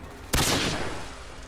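A single sharp pistol shot from dual-wielded handguns in the video game Black Ops, a loud sudden crack followed by a long fading ringing tail.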